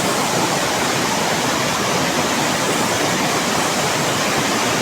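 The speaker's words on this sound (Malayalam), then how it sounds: "ഇവിടെ വീണ്ടൊരു വെള്ളച്ചാട്ടം വരുന്നത്" Steady, dense roar of Irappinkoottam waterfall in Kollam, loud and continuous throughout with no breaks or other sounds standing out.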